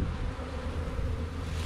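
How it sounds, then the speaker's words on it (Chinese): A swarm of wild bees, driven out of a deep lure-hive hole by smoke, fills the air with a dense, continuous buzzing that is close, steady and unbroken. "蜜蜂满天飞啊"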